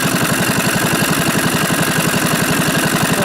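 A 70- to 95-year-old engine idles close up, a loud, even chugging with a fast regular beat of firing pulses and a metallic clatter that holds steady throughout.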